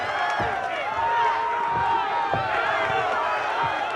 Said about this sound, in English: Crowd urging Sal, keep going